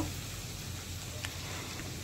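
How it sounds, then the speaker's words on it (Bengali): Small fish frying in a pan while a home lunch cooks, giving a quiet, steady sizzling hiss throughout with one faint brief crackle partway through. "মাছ ভাজা হচ্ছে"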